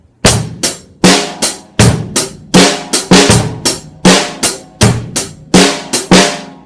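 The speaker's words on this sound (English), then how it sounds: "It's 16th notes, so it's in between those eighth notes." Rock beat on a drum kit with sixteenth-note hi-hat figures, loud and close: sharp repeated hits with decaying crashes in a steady driving groove, played alone without talk.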